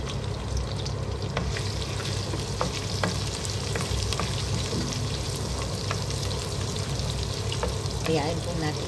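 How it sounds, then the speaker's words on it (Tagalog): Garlic and ginger fry in a pan, a steady close sizzle with scattered stirring scrapes and crackles throughout, no voices heard. "Kayaan po natin na medyo mag-brown-brown ng konti ang ating bawang at saka ang ating luya."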